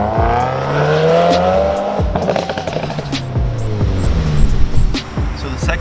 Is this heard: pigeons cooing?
no